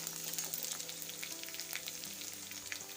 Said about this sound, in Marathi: थोडासा कढीपत्ता मिरचीचे तुकडे घालून हे सर्व हलवून घेऊया